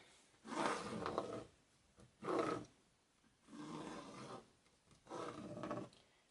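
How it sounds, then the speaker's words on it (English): Marker or pen drawn along a ruler across fabric, marking lines one inch apart for a pleated placemat: four soft rubbing strokes of a second or so each, close and quiet, with pauses between. "I take my ruler, put it on the 1-inch line, and draw the line"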